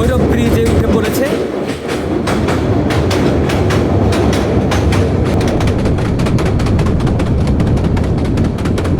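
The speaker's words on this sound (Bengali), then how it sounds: "আমাদের ট্রেনটি এখন ভৈরব ব্রিজে উঠে পড়েছে।" The Cox's Bazar Express rolls across the Bhairab bridge with a loud, continuous rumble and rapid rhythmic clatter of wheels over the rails, heard from aboard the train.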